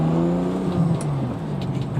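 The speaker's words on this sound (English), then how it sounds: "This Ferrari 456 will not let you down in the noise department." A Ferrari 456 GT engine runs steadily and loudly close by, holding a smooth, sustained rumbling revving note throughout with no talking.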